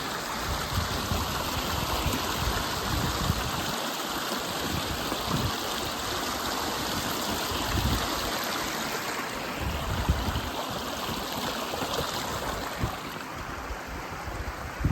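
A river rushing along a trail where it flows into a reservoir on the Appalachian Trail, giving a steady broadband wash of running water that stays loud and constant throughout with no talk.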